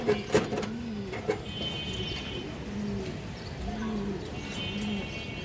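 Pigeons in a loft coo in soft, repeated low rolls, several near calls spaced across a steady background hiss, with a few sharper clicks and faint chirps.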